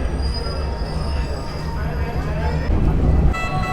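Steady, close rumble and whine of a metro train running on its rails in Egypt, with a faint high squeal and a slight rise in noise toward the end.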